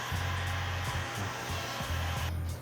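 Heat gun blowing hot air while heat-forming window tint film onto a car windshield during tinting, a steady close whooshing hum with the tone dipping briefly several times as the gun moves.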